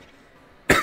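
A single sharp, close cough bursts out after a near-silent pause and fades quickly.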